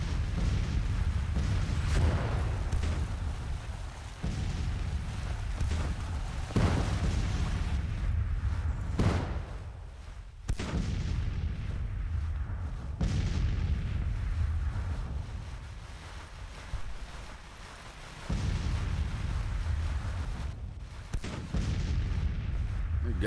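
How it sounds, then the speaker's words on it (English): Artillery fire in a Civil War strategy game, heavy low booms recurring every few seconds over a continuous rumbling battlefield bed with wind-like noise, loud and sustained throughout. "Starting to take artillery fire from the hill."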